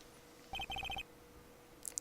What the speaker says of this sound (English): And what is this stupid-sounding ringtone?